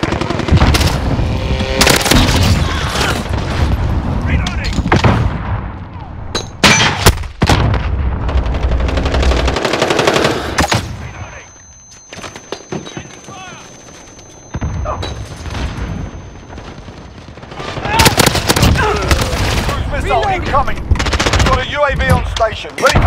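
Rapid automatic fire from a Colt 9mm SMG in Modern Warfare 2019, played on PS5, with long loud bursts, heavy battlefield booms, a brief quieter lull midway, and radio-style voices talking over the action.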